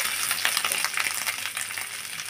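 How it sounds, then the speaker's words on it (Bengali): Ginger paste frying in a pan for a vegetarian pea dal, giving a steady, close, bright hiss of sizzling with no pauses. "এর মধ্যে দিয়ে দিব আদা পেস্ট, দিয়ে আমি সুন্দর করে ভেজে নিব।"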